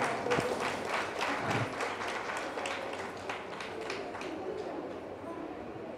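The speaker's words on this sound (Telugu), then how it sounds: "గట్టిగా సార్ అందరం క్లాప్స్ కొడతాం మేడం." An audience clapping at a Sravana Sambaralu felicitation event in a Hyderabad kalyana mandapam, a sustained round of applause from a crowd at moderate distance that fades slightly toward the end, with some voices mixed in.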